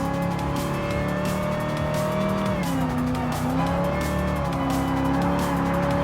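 Dodge Challenger race car in Gran Turismo Sport, a steady loud engine drone with gear-shift pitch drops and faint tire noise, no talking.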